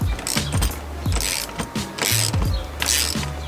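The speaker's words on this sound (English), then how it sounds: "I can do the rest with the regular socket wrench." A socket wrench ratchets in quick clicking bursts while a steering wheel is removed from a BMW E30, the pawl rattling in several short runs separated by brief pauses, close and clear with no talking.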